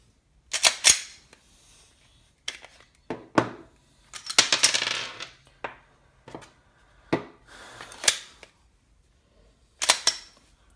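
Sharp metallic clicks and clacks from handling a semi-automatic pistol loaded with snap caps to simulate running dry, heard as a series of separate close, loud mechanical snaps with quiet gaps between them.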